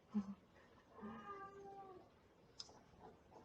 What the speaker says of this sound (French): si vous entendez mon chat